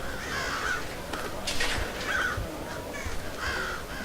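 In the stealth video game Thief, alerted birds caw as crows: three harsh calls spaced a second or so apart over a soft, steady ambient background, with no talking.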